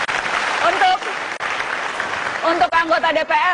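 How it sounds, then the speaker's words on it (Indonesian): A television studio audience on a talk show claps for a guest, a loud burst of applause that carries on underneath a host speaking Indonesian into the microphone. "Nah, kita kasih tepuk tangan dong untuk Mas Ganjar,"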